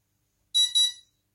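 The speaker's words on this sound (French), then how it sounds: "je vais laisser passer la première séquence de bip" A brushless motor ESC sounds a quick pair of high electronic calibration beeps, clear and close in near silence.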